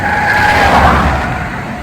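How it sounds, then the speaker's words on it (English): Car passing on a road beside a stream, heard as a close, loud tire-and-engine whoosh that swells and then fades over about two seconds. "Here comes a car. Ignore the noise."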